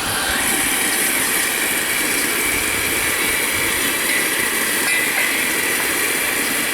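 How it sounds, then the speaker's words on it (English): Steady, loud broadband roar of a J94 Austerity steam locomotive's blower opened on the footplate, a continuous hissing rush of steam and draught filling the whole stretch without pause. "So this is the time now to open the engine's blower and take the electric blower off."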